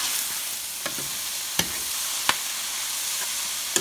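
Collard greens with salt, red pepper and curry sizzle in a pan, a steady close fry broken by a few sharp utensil clicks against the pan.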